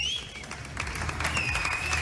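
Studio audience applauding the host of a radio talk show, a brief round of clapping blended with a faint whistle-like tone, moderately loud throughout.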